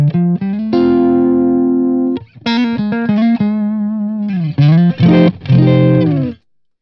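Electric guitar played through a Boss Katana 50 MkII modelling amp with its Blues Driver booster engaged, giving a driven, slightly distorted tone; sustained chords and short riffs ring out loud and close, then stop abruptly near the end.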